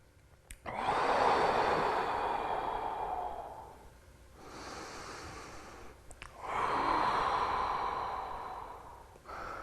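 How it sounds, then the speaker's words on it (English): Deep breathing held through a shoulder stretch, two long slow breaths with strong airy inhales and exhales, close to the microphone, with a brief pause between them and no speech. "2 more breaths here."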